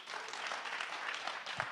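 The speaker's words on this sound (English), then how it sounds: "Please give him a round of applause." An audience applauds as a speaker is welcomed onto the stage, with soft, even clapping from many hands that sounds distant and fairly quiet throughout.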